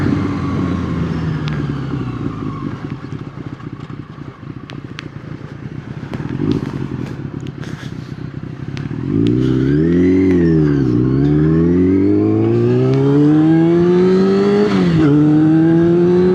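A punchy motorcycle engine rumbles steadily, then from about nine seconds revs up loudly in repeated rising surges that dip and climb again, close and continuous, with no one talking.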